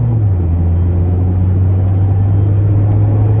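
A 2019 Mazda MX-5 Miata Sport soft-top roadster with a 6-speed manual cruises on the road, giving a steady, loud, low engine drone and road rumble that holds constant throughout, with no talking.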